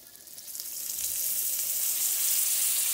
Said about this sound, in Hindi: अब मैं इस कढ़ाई में थोड़ा सा बटर लूँगी।